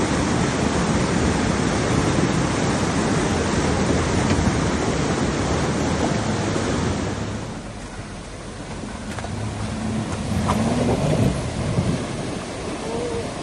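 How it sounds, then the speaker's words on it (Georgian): Broad roar of rushing river water during a rescue team's river crossing, loud and steady for about seven seconds, then easing slightly into a softer wash with scattered splashes and knocks. "ეხა მდინარეზე გადავდივართ"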